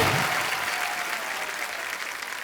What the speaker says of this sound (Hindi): जोरदार तालियों से अनुष्का का स्वागत।